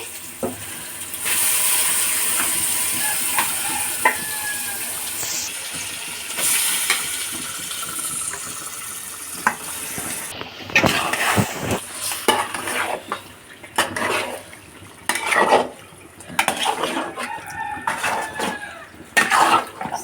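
Chicken stirred into spice paste for Eid chicken biryani, a metal spoon scraping and clanking against the pot over a soft sizzle, with irregular knocks growing busier toward the end.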